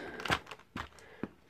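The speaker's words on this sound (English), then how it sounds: "I better get the scissors" Several short snips of scissors cutting through tape on toy dinosaur packaging, three distinct close crisp cuts spaced about half a second apart in a quiet room.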